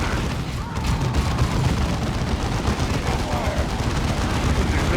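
Artillery strikes in the strategy game Dawn of War II, a dense, continuous barrage of explosions and booming gunfire rumbling loudly throughout, with no talk.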